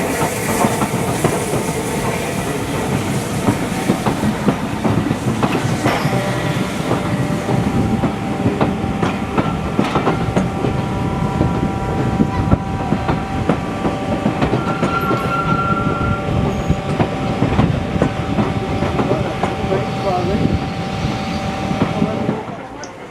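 Heritage railway carriages rolling along the track between Alton and Alresford with a rhythmic clickety-clack and steady rumble, close and continuous, with faint tonal squeals from the wheels partway through.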